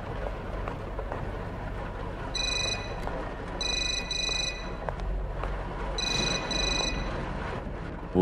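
An old-style telephone bell rings in the horror game Suffer the Night, three separate bursts of trilling rings over a steady backdrop of rain.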